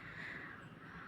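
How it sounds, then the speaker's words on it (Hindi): Crows caw from far off in the morning sky over trees and greenery at dawn, a steady faint cawing that runs through the whole moment without any voices. "कौवे जो है वो दूर दूर आसमान में जो है वो बोल रहे हैं, काँव काँव कर रहे हैं"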